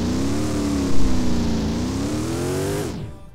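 A car engine in the Roblox game Driving Empire revs steadily for about three seconds, a loud buzzy synthetic drone that rises slightly, dips and climbs again before cutting off abruptly.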